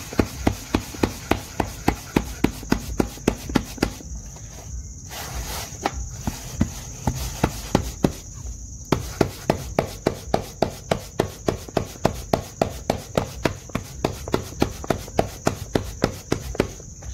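Urad flour bhakri dough being patted flat by hand, a steady series of close, sharp slapping pats in an even rhythm with a brief pause midway; no talking.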